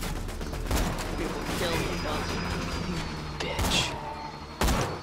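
Gunfire in the video game Borderlands 2, a string of rapid shots with sharp louder blasts near the end, heard under players talking and swearing.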